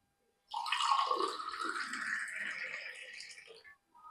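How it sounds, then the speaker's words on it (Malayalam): Strained sugarcane juice poured into a glass, a steady close liquid stream running for about three seconds and tapering off at the end, with no voices. "നമുക്കിത് അരിച്ചിട്ട് ഗ്ലാസ്സിലേക്ക് ഒഴിക്കാം"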